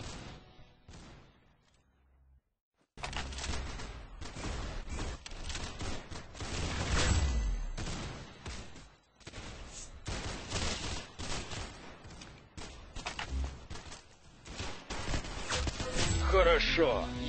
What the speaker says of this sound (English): Good shot! You got his head! Very good shooting!